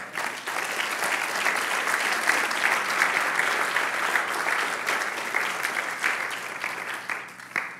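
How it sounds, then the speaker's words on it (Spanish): A church congregation claps together in steady, dense applause that holds for several seconds and tapers slightly toward the end, with no voices standing out. "¿Puedes darle un aplauso al Señor?"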